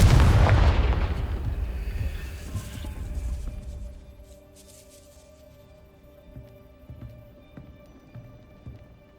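A Confringo fire spell bursting in the Hogwarts Legacy video game, a heavy booming blast that rumbles loudly for a few seconds and then fades into quieter scattered knocks and crackles, no speech.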